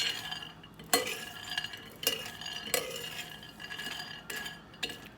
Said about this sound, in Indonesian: Kita buka, lalu kita aduk-aduk. Kita aduk rata sampai merata ya.